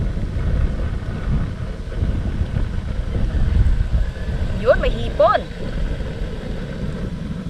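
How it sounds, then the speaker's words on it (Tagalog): Strong wind buffets the microphone with a steady low roar throughout, and a voice speaks briefly under it. "Grabe lang yung hangin."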